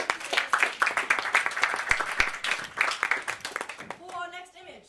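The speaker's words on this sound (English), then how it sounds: "Ladies and gentlemen, give her a round of applause." Audience applause at a live stage performance, a few seconds of dense clapping from a crowd that fades, followed by a brief voice at the end.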